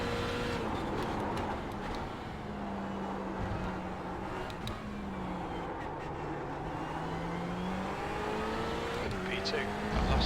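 A race car engine drones continuously at the Nürburgring Nordschleife in the iRacing simulator, its pitch rising and falling through gear changes, with tire noise and a voice talking over it.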